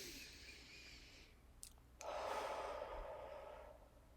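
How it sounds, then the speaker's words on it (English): Slow, deep breathing, drawn in through the nose and let out through the mouth, faint and close, with a quieter inhale followed by a longer, breathy exhale. "we're going to be breathing in through our nose for 3 and out through our mouth for 3"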